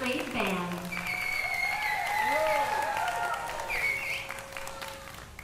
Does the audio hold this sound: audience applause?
yes